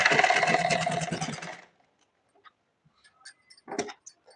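Sewing machine stitching a party-wear blouse, with a rapid mechanical whirring and ticking burst for about a second and a half, then stopping, followed by a few faint clicks and handling noises.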